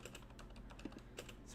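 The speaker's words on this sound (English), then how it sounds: "People could probably hear me typing right now." Quiet, rapid clicking of keys on a computer keyboard, an irregular patter of taps close by with no voices.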